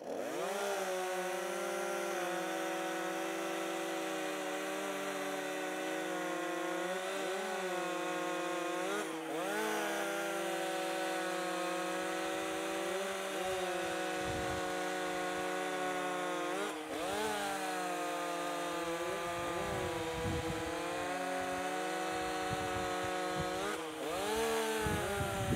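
A chainsaw fitted with a STIHL 63 PS chain cuts through wood in a timed cutting race. The saw snarls loudly and steadily throughout, its pitch dipping and rising as it bites into the wood, with brief lulls between cuts.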